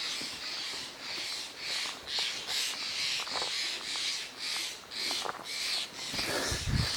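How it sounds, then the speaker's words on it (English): Crows calling from trees along a forest hiking trail near waterfalls, repeated rhythmic caws roughly every half second, steady and moderately distant, with no talking. "Those are all from birds that you can hear up there."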